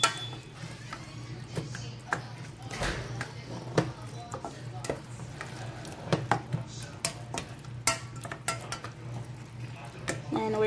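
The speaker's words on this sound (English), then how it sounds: "Add the saltfish in. Just mix it around." Saltfish gets stirred around a pan, with repeated clinks and scrapes of a utensil against the metal over a faint sizzle, in an irregular rhythm.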